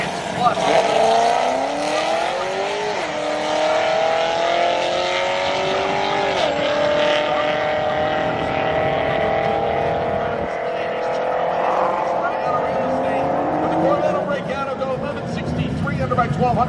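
Drag race cars, including a 1988 Corvette, launching down the strip, loud engines rising in pitch through the gears and then fading, with a race announcer talking over the roar.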